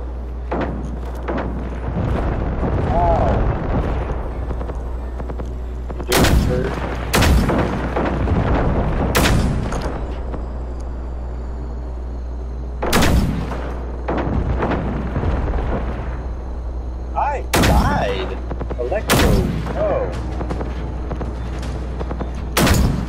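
Repeated loud gunshots and heavy booms from the video game Generation Zero, sharp bursts spaced every few seconds over a constant low rumble and background game noise.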